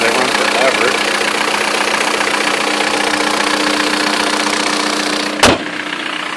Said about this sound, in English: pretty clean engine bay. And the motor sounds excellent.